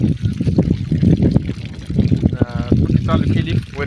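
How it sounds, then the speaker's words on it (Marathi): Water runs from a pipe into the basin around a chikoo tree on a farm, a steady rushing, trickling flow heard close throughout, with voices in the background. "सोडलं चकोच झाडाला पाणी"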